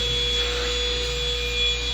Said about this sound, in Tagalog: Vacuum yung gamit nila.